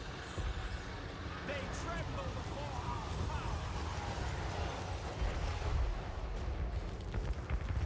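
Artillery bombardment booms through a Total War: Warhammer 3 battle with the Legion of Azgorh, low rumbling blasts and impacts rolling under constant battlefield clamor while a person talks over it.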